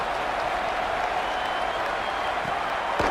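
Home football crowd at a West Virginia game roaring and applauding after a punt return, a dense, sustained wash of cheering that stays loud and even throughout.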